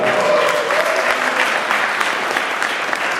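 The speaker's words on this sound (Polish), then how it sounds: "Właśnie miło jak państwa brawa odprowadzają naszych laureatów na scenę." A full hall at the 2009 regional sportsperson-of-the-year awards gala applauds loudly and steadily as winners walk to the stage, with no talking.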